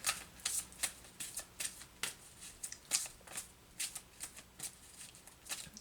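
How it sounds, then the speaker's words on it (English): Archangel oracle cards shuffled by hand, a steady run of soft papery riffles and flicks close up, with no talking. "So I'm going to pull a couple of Archangel cards and see"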